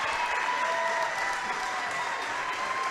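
A visiting crowd at a girls high school basketball game applauds players, a steady wash of clapping throughout with an announcer speaking over it.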